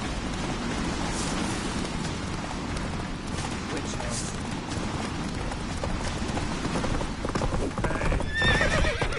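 Horse hooves clip-clop at a steady gallop through a Witcher 3 game scene, with a horse neighing and whinnying near the end, over a busy in-game background and voices.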